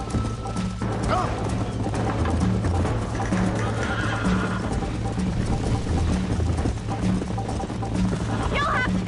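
Horse in the Red Dead Redemption video game whinnying and galloping, with steady clip-clop hoofbeats throughout under a continuous musical score.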